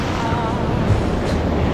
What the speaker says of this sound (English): But you gotta watch out for the waves.